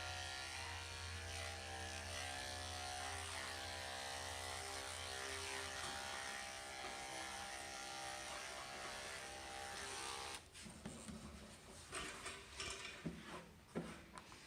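Electric clippers buzz steadily and close up during a shave-down, all-off haircut, a continuous motor drone that gives way near the end to irregular rustling and handling sounds.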